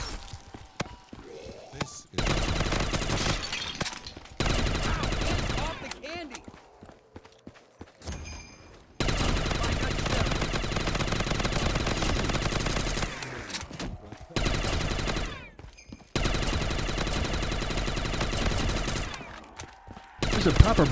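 Sniper rifle fire in a shooter video game: long, dense stretches of loud, rapid gunshots broken by short quiet gaps, with a voice talking throughout.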